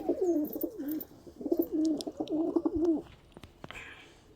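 Lakka pigeons coo close by in a series of loud, rolling, bubbling phrases for about three seconds, then fall quiet apart from a few faint clicks and rustles.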